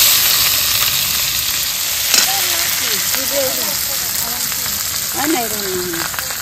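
Whole spices and chopped onion sizzle steadily in hot oil for a village-style Bengali duck curry, a dense continuous frying hiss close up, with faint voices talking softly underneath.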